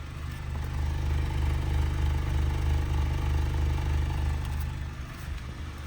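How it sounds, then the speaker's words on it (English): A Honda Fit engine with suspected rod knock, just after a valve adjustment, runs close by at a steady low idle after revving, with a faint clatter riding over its hum. "after revs, there's definitely still some knocks"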